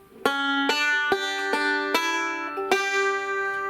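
A short banjo phrase of about seven plucked notes, bright and ringing, played alone at a moderate, even pace.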